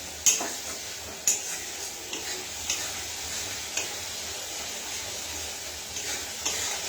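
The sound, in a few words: spice paste (masala) sizzling as it is slowly fried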